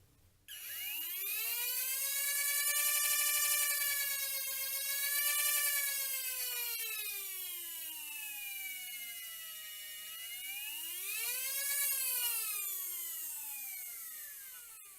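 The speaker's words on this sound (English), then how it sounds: "you can clearly hear the motor spinning faster and slower" Nerf blaster flywheel motors driven by a PWM controller whine loudly and steadily, their pitch sliding up and down as the speed is varied, with no talking over them.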